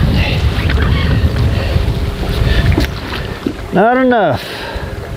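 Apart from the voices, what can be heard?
wind blowing on a lake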